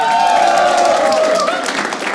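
Audience applause and cheering at a Hindi game-show taping, a steady dense wash of clapping filling the whole stretch with a bright tone running through it.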